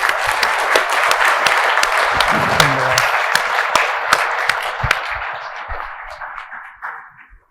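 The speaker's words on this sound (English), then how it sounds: "Another round of applause." Audience applause follows a presentation on technology for the mortgage business, a dense, steady wash of many clapping hands that holds strong and then thins and fades out near the end.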